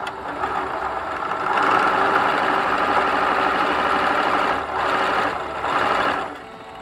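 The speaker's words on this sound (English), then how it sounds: "we're going to sew the bottom of his body shut" A sewing machine stitches the bottom seam of a fiber-filled stuffed toy, a steady close mechanical whir running continuously with brief dips in pace near the end and no talking.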